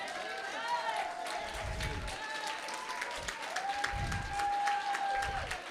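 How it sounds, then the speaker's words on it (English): Sustained applause from an audience giving a standing ovation at a Haitian ladies' network brunch in Washington DC, a continuous wash of clapping with voices and whoops carrying over it. "she deserves that standing ovation and those applause"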